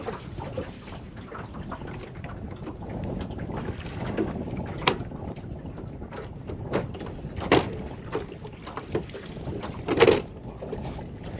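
A small boat moves across the water, with wind buffeting the microphone, splashes and occasional knocks against the hull.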